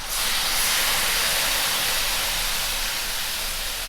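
White wine poured into a hot seafood paella pan over rice coated in butter and olive oil, giving a steady, loud, close hiss and sizzle that holds evenly throughout.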